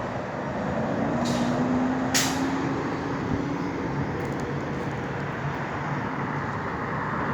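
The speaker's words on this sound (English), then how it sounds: "Look at the TTC buses." Toronto TTC buses out on a city roadway: a steady traffic rumble with a low engine drone, a hiss of air brakes and a brief whine, all heard from close by with no talking.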